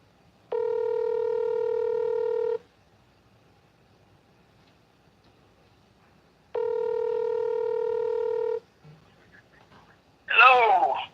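Telephone ringback tone from a call being placed back to a caller, two long steady buzzing tones about two seconds each separated by a silent gap, followed by a brief voice at the end.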